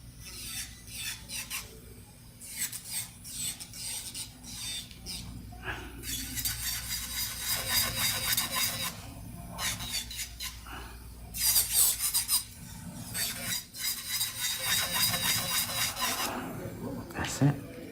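An electric nail drill files around the cuticle area, giving bursts of high whirring and rasping that start and stop, with speech in between.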